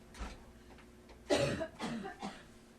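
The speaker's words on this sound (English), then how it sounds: "No, I really want to cough." A person coughs several times in close succession, the first a softer hack and then three louder, rough bursts nearby, with no talk.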